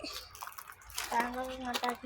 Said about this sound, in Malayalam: അപ്പോൾ ഇതിൽ വെള്ളം നിറഞ്ഞുകൊണ്ടിരിക്കുകയാണ്.